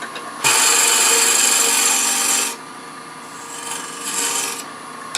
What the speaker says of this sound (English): I'm going to use a square end scraper, box scraper, just to put that recess in there